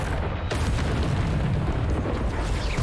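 A Bombarda spell explosion in Hogwarts Legacy gameplay, a sharp burst followed by a dense, roaring rumble that fills the whole moment, loud and close.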